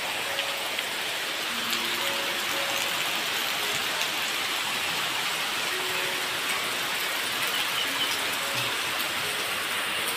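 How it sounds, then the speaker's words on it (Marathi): Heavy monsoon rain in Konkan pours down steadily, a dense, even hiss of drops on surfaces that holds at the same strength throughout with no voices. "मगापासून थोडा कमी होता आणि आता जोर पकडायला लागला पाऊस."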